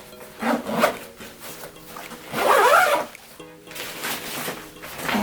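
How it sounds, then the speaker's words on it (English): A backpack for winter travel is zipped shut in several close, scratchy strokes, the longest pull running through the middle of the clip, with no talking. "let me zip this up here"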